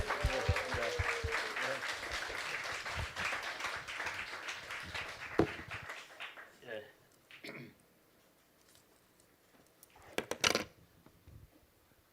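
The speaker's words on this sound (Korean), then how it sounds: "이제 우리 있는 자리에서 우리 박사님 나오실 때에 큰 박수로 우리 맞이하겠습니다" An audience at a North Korea salvation prayer assembly claps loudly to welcome a speaker, the applause fading out after about six seconds into a quiet room with scattered taps and knocks.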